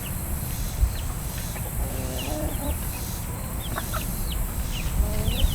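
Chickens clucking nearby in a farmyard, including a broody hen, with repeated soft clucks and short calls scattered over steady outdoor background noise.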